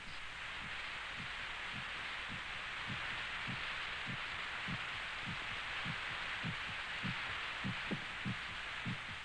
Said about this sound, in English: The sound of our heart pounding against our ribs.